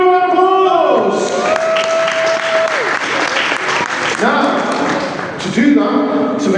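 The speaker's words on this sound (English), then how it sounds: "give them a round of applause!" Round of applause from a museum audience, loud steady clapping throughout, with a voice and some thumps mixed in.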